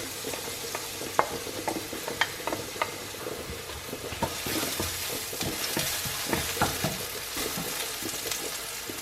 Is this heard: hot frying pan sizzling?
yes